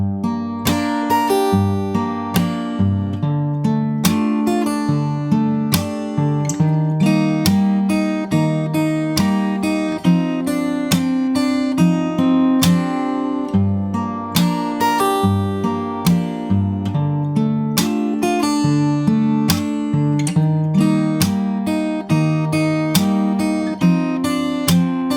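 Fingerstyle acoustic guitar plays the second pre-chorus of a song as a steady, continuous passage with a picked bass line under ringing chords and melody notes, close and clear with no voices.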